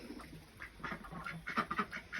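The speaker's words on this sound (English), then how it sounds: "You dirty ducks, what have you done?" Ducks quack close by in a garden where grass clippings lie about, a quick run of several overlapping calls, fairly quiet with nothing else around.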